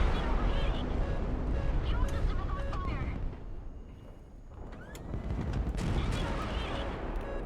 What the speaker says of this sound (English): We just had an ammo explosion there.